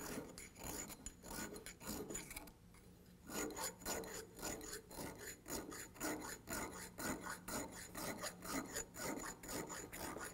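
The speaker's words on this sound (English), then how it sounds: "this little three-cornered file, the edges of it are eating some material off real quick-like" Three-cornered saw-sharpening file rasping quickly along a bronze edge on a work skiff build, a steady run of close, gritty strokes with one short pause early on and no talking.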